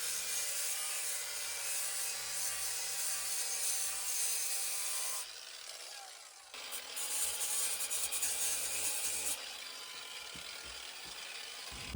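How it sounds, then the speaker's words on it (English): An angle grinder scrubs light surface rust off the passenger floor panel of a Skoda pick-up, a steady harsh abrasive hiss that dips briefly and then returns at full strength. "It's not a deep rust, but we need to use the grinder."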